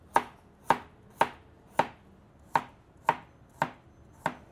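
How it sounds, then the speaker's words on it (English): A freshly sharpened vegetable cleaver chops beets into small pieces on a board, eight crisp, evenly spaced knocks close by, with no voices. "But I got my veg cleaver here, I sharpened up real nice. Watch this, boom, ain't no thing."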